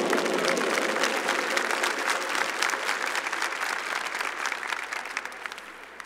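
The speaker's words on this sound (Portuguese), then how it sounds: "Vamos aplaudir o nosso Rei." A church audience applauds its King during a worship service: dense, steady clapping from many hands fills the room and holds for about six seconds before easing slightly at the end.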